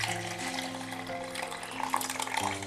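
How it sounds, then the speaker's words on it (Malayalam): Soaking water poured off raw white rice, a steady splashing trickle that runs throughout beneath sustained tonal background music. "ഞാൻ ആദ്യമേ ഈ പച്ചരിയിലെ വെള്ളം ഒന്ന് മാറ്റണേ"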